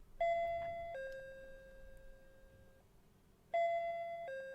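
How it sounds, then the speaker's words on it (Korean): A front doorbell in a video game chimes twice in two-tone ding-dong patterns. The chimes are clear and moderately loud, with a long ringing tail between presses and no voices. "어쩔 수 없어 몇 번씩이나 초인종을 눌렀다."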